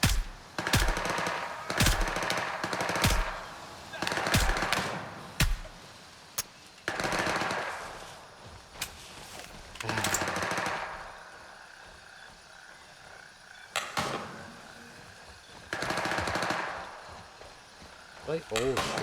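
Soldiers fire guns in a war video game, with rapid loud bursts of automatic gunfire coming in clusters and pauses between them.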